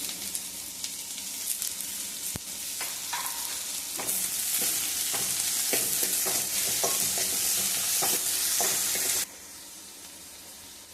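Onions and tomatoes sautéing in a pan for masala dosa filling, a steady low sizzle broken by irregular scraping and stirring clicks, then the frying noise drops sharply near the end; no voices.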